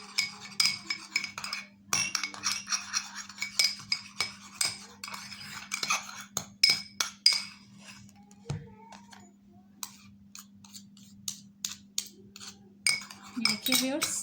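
A spoon briskly mixes lemon juice into a baking soda cream in a bowl, producing a close, fast run of clinks and scrapes against the bowl with brief pauses, fairly quiet.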